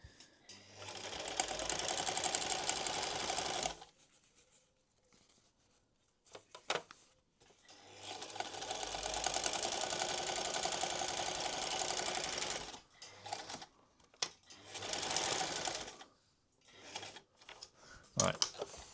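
A sewing machine backstitches seams on a foam box cushion for a Transit Connect van bed, giving loud rapid mechanical stitching bursts of several seconds each, separated by pauses and short stitch runs.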